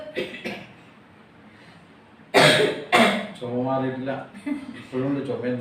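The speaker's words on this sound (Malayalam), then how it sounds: "സംസാരിക്കുമ്പോൾ എനിക്ക് ചുമ വരുന്നുണ്ട് നന്നായിട്ട്." A person coughs twice in sharp, loud bursts close to the microphone after a quiet stretch with brief murmurs, then goes on talking.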